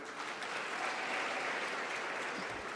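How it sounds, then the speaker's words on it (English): An audience at a youth health conference session gives a sustained round of applause, a dense, even wash of clapping from many hands throughout. "she really deserves a round of applause"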